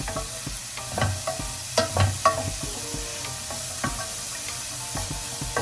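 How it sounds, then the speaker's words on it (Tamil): Vegetables sauté in a pan for a veg pasta, with steady frying sizzle under repeated scraping stir strokes and light utensil clicks, close and moderately loud throughout. "ஒரு 2 நிமிஷம் வதக்கிட்டு உப்பு சேர்த்துக்கோங்க."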